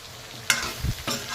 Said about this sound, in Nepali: एकछिन भुटेर करेला हालेँ